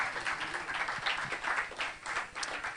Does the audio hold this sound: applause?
yes